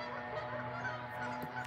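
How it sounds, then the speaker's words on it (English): Several nearby geese kept with ducks honk in a busy, overlapping chorus, loud and continuous with no talk over them. "They just some geese and ducks."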